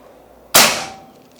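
One sharp, loud report from a PCP air rifle, a Mauser or Marauder OD 38, bursting out of near silence and ringing away over the following second.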